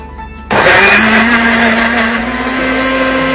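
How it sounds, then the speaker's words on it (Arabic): A blender mixing a chicken marinade with salt, pepper and a little water starts abruptly and runs loud and steady, its motor whining at a constant pitch with a slight dip near the end. "سنة مية صغيرة عشان كل المكونات دي تمشي في الخلاط"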